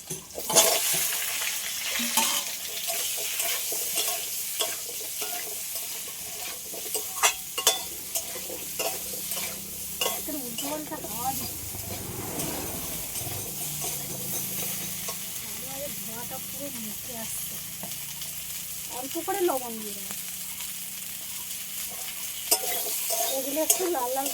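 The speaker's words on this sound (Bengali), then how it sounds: "চিংড়ি মাছ ভাজা তেলের মধ্যে এবার কলা আর আলুটা ভেজে নেব" Steady oil sizzling as banana and potato fry in oil left from frying prawns, with spoon scrapes and stirring clatter throughout, fairly close and continuous.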